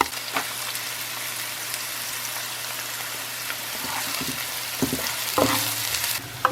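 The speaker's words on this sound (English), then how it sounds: "We're going to go ahead and put all this onion into our pan. And we're just going to saute it." Onions sauté in a pan for a canned chili weenie soup, with a continuous hissing sizzle throughout and occasional clinks and scrapes of stirring near the end, no talking.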